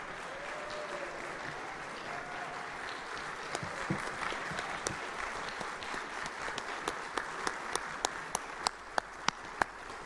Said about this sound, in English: Will all the previous inductees please stand at this time so we can give you a round of applause.